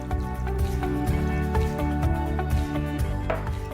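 Water poured into a blender for a smoothie, a steady close splashing and trickling stream with scattered drips, running alone for several seconds.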